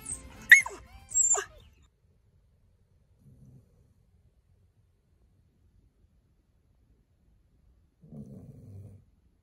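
A dog grumbles and whines softly while drifting off to sleep indoors, a few short close grumbly bursts at the start, then faint low murmurs later amid long quiet stretches.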